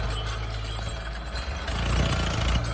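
A tractor engine runs steadily at close range, a low continuous rumble with a slight rise in loudness toward the end, with no talk over it.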